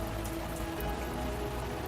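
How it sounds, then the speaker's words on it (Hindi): Heavy rain pours down steadily, a dense continuous hiss of drops hitting surfaces, close and even throughout, with no voices. "तभी तेज बारिश शुरू हो गई"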